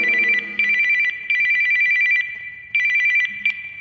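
A telephone rings in repeated electronic bursts, each a quick trill of tones followed by short pauses, loud and close with nothing else around it.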